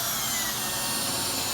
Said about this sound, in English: Because I picked the drill that's a bit smaller.